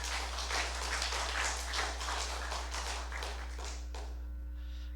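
Audience clapping at a church health seminar, a run of brisk overlapping claps with a low electrical hum underneath, tapering off after about four seconds.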